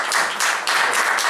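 A crowd applauding with dense, steady clapping that swells in a few waves over a short stretch, loud and close.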